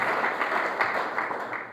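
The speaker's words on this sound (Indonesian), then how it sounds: "Tepuk tangan yang terbaik buat Tuhan Yesus." A church congregation claps enthusiastically in worship, a short, steady wave of many hands, moderately loud and unbroken, with no speech over it.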